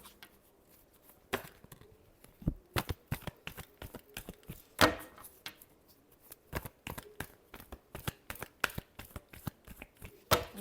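Tarot cards being shuffled, a fast run of crisp riffling slaps and flutters close by, with no voice over them.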